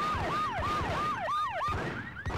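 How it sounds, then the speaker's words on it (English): A loud, close police siren from the video game Max Payne wails in a rapid repeating yelp, its pitch swooping up and down again and again with no pause. "I want to get rid of the bloody police siren blaring so much there"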